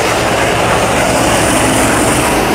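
A trailer-mounted 70 HP cold-water sewer jetter runs at 4,000 PSI and 18 gallons a minute, its engine and pump producing a loud, dense, unbroken roar close by.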